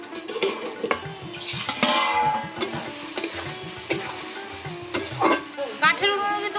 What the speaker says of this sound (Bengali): এখন উচ্ছে ভাজা বসিয়েছি